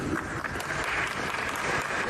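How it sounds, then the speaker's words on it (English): A studio audience on a UK breakfast talk show breaks into sustained applause, a dense, even wash of clapping that carries steadily throughout. "Let's give him a round of applause"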